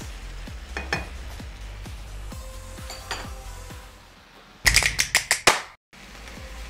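Ground beef frying in a pan for pasta sauce, with scrapes and clanks of a utensil against the pan, a steady low sizzle underneath, and a quick burst of sharp metallic knocks toward the end.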